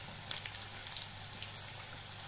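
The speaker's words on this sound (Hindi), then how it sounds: "हमने 5-6 मिनट तक पकौड़े को तेल में फ्राई किया है।" Lachha pakora fry in hot oil with a steady, dense sizzle and small crackling pops close by, with no voices.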